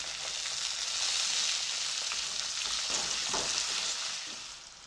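Chopped onion hits hot oil with garlic already browning in the pan over a medium gas flame, giving a continuous bright sizzle with a few stirring scrapes before it eases off slightly at the end.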